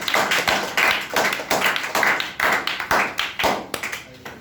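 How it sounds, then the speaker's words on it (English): Clapping from a small group at a public speaking session, a loud, close, rhythmic series of about a dozen evenly spaced claps in unison, heard alone without talk. "hand and clap for Aditya."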